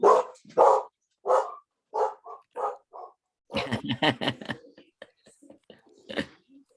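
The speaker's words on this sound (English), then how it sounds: "here's my dogs. Hold on a second." Dogs barking indoors close by: a run of loud, separate barks, then a denser burst of overlapping barks mixed with a voice, and a few scattered yips at the end.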